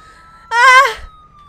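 Ambulance siren in a video game, a single loud wailing sweep that starts abruptly and fades after about half a second.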